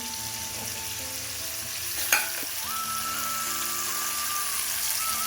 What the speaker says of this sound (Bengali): কেটে রাখা বেগুন, একই সাথে ভেজে নেব।